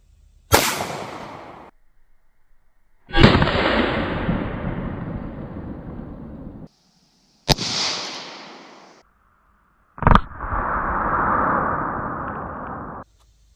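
.380 ACP pistol fired at soda pop bottles: three loud, sharp shots spaced a few seconds apart, each followed by a long fizzing spray from the burst bottle, plus one more fizzing burst near the end.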